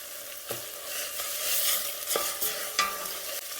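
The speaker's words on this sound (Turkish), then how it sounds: "Yeşil biber koyalım. Azıcık kavuralım. Pul biber ekleyelim." Green pepper and chili flakes sauté in a pan with tomato paste, giving a soft, moderate sizzle. A few sharp clinks and scrapes of a stirring utensil cut through it, with no talking.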